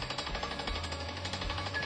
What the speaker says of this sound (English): We have a drill rig here today, and we are taking soil and groundwater samples